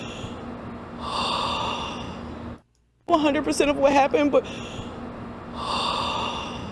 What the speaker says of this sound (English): What is she breathing like that for?